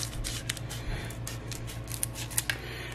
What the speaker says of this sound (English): we're going to take a scissors and cut these open